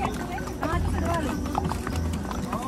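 Horse hooves clip-clop steadily on a mountain trail ride near Sonamarg in Kashmir, heard close up under continuous talking.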